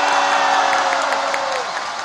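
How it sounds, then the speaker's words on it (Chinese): A live stage-show audience bursts into applause and cheering, a dense, loud roar of clapping and whoops that fades slightly toward the end. "掌声、欢呼声。"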